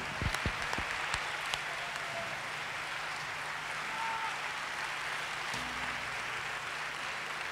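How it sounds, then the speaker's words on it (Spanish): Audience applause for a rock choir performance in Alcorcón, a continuous faint wash of clapping heard from a distance, with a few sharper claps near the start. "Fuerte aplauso para ellos."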